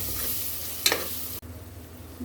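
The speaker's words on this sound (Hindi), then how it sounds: "फिर डालेंगे नमक, थोड़ा इसको भून लेंगे अपन।" Chili, salt and spices sauté with tomatoes in a pan for a cluster bean dish, giving a soft, close sizzle with a few quick stirring scrapes and no talking.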